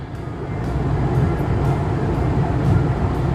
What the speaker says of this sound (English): You can probably hear the fan blowing.